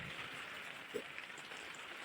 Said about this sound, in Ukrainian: Трошки стих дощик, коли йде.